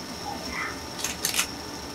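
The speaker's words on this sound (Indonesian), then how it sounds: "Saya akan ambil gambar dulu di shutter speed 1/20." A camera shutter fires once at a slow 1/20 second speed, giving a quick double mechanical click close to the microphone against a quiet room.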